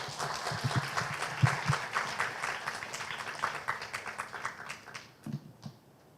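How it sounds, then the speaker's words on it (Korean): Conference audience applauding to welcome a speaker on stage: a dense run of clapping fills the room for several seconds, then thins and fades into scattered claps. "나오실 때 뜨거운 박수 부탁드리겠습니다."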